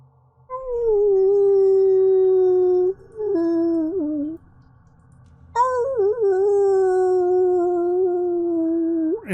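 Blink dogs howl together in long, mournful, sustained tones that waver and bend in pitch, two drawn-out howls separated by a short pause, loud and clear against a quiet background.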